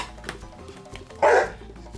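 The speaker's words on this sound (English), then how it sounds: "You hear my dog barking." A single loud bark rings out close by, standing clear above a low background hum.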